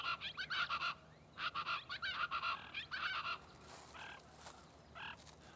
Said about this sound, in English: the chachalaca, a noisy, gregarious bird common at the Santa Ana Wildlife Refuge